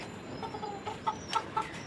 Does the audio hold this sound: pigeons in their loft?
yes